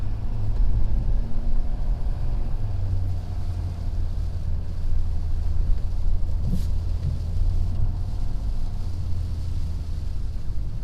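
A 2019 Ford F-350 Powerstroke pickup in four-wheel drive on General Grabber X3 35/12.5/18 tires drives through snow, its diesel drone steady and loud inside the cab with wind and road rumble, no talking.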